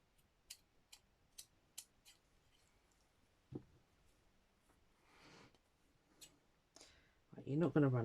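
Poor-quality scissors snipping fabric, with a few sharp clicking cuts in quick succession, then scattered snips and rustling, quiet and close, ending with a brief burst of speech.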